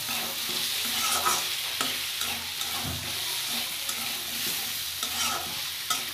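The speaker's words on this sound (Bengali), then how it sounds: "আর একটু ভাজা ভাজা করব।" Diced potatoes and broken-down eggplant frying in a pan for a Bangladeshi mash, with steady close sizzling and repeated spatula scrapes and stirs throughout, no talking.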